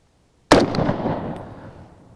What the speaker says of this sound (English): I'm just going to take shots kind of randomly